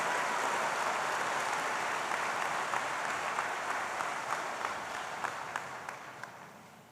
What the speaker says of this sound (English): Let's give one more round of applause to all of our valedictorians and salutatorians.